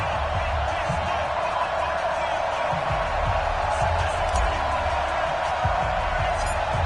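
Steady stadium crowd roar at NRG Stadium in Houston in an NFL football video game, Atlanta Falcons against Houston Texans, a constant wash of noise with a commentator talking over it.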